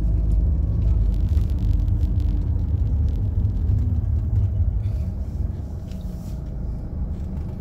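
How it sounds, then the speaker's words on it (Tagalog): Road traffic in a jam near a traffic light makes a steady, low engine rumble throughout, continuous and fairly loud with no breaks. "Traffic na naman, guys."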